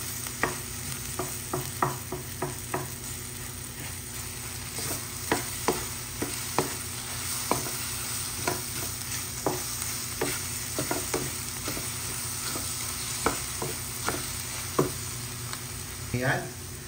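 Egg frying in a pan with sautéed bitter gourd (ampalaya) sizzles steadily while a spatula scrapes and taps in a regular rhythm of sharp clicks, close and fairly loud throughout.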